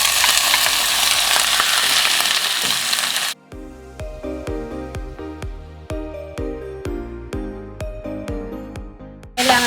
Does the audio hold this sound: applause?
no